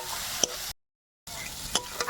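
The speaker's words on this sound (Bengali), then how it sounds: "এদিকে রসুনটা নামিয়ে পেঁয়াজটা ভাজতে বসিয়ে দিয়েছি" Onions fry in a pan with a close, steady sizzle, broken by a short total silence and a few light clicks of stirring.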